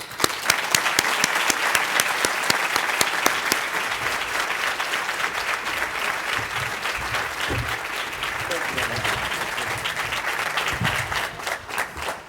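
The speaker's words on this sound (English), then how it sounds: "let's give him a warm hand of applause" An audience at a Washington conference on smart power applauds Treasury Secretary Jack Lew, a loud, sustained wash of hand clapping from a large crowd that holds steady for about twelve seconds.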